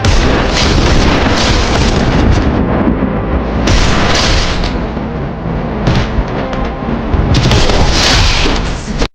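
Free Fire video game gunfire and explosions pound continuously and loudly, rapid bursts and booms layered together with short breaks in between.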